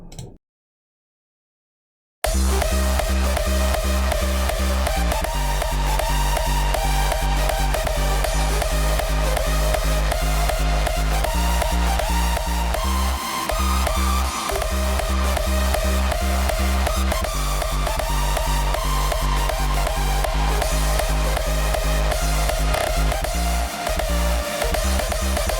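After a short blip and a brief silence, a loud, dense hardstyle electronic drop hits with pounding kicks and distorted synth leads, driving continuously.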